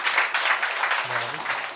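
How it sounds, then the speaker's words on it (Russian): An audience applauds on a talk show, a dense, steady wash of clapping carried alongside a voice speaking over it. "Аплодисменты!"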